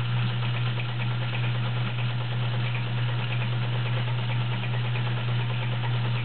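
A vintage Kenmore model 1207 sewing machine runs a wide zigzag stitch, its motor giving a steady, close hum with a fine rapid ticking of the needle, unbroken throughout and with no talking.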